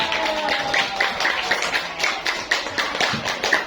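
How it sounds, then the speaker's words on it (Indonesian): Children clapping in a classroom after a smartboard lesson, a steady run of quick claps, moderately loud and close, with faint background voices. "Nah, kasih tepuk tangan."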